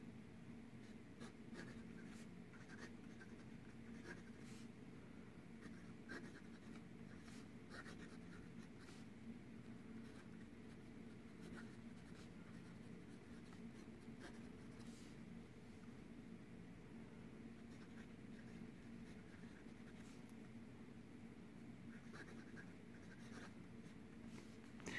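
A Graf von Faber-Castell fountain pen with a fine gold nib writing on paper: a faint, continuous soft scratching of strokes, close and quiet over a low background hiss, with no talking.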